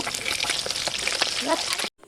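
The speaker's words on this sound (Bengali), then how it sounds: "আমি অপর পিঠটি উল্টে দেব দিয়ে ভালো করে মাছগুলি ব্রাউন কালার করে ভেজে নেব" Rupchanda pomfret fish frying in hot oil, a steady close crackling sizzle with small pops and stirring clicks, cutting off sharply near the end.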